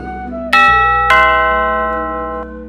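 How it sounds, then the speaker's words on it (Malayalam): A doorbell chime in a Malayalam audio drama rings out as two close, loud strikes about half a second apart, each tone hanging and slowly fading, with no voices. "വീണ്ടും ബെൽ മുഴങ്ങി."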